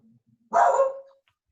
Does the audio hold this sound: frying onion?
no